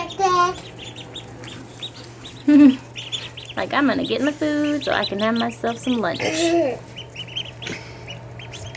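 Several newly hatched ducklings call in high peeping chirps and squeaks, some close and loud, while a person talks in between and over the calls.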